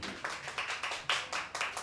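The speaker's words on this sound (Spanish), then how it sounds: "Dale un aplauso fuerte a Jesucristo." Church congregation applauding in a quick, uneven burst of claps, moderately close, with bursts of hand claps swelling and easing over a couple of seconds.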